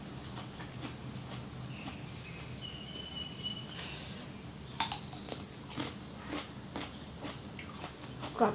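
Crunchy chewing of a spicy Thai squid salad, with repeated close bites and crisp crunches over a steady low background hum, growing louder near the end.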